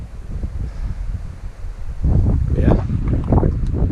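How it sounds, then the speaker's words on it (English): Strong wind on a mountain summit, Mount Jo in the Adirondacks in winter, buffets the microphone with low, rumbling gusts that grow louder partway through, as a voice speaks briefly over it. "It's definitely a little windy up here today, but not terrible."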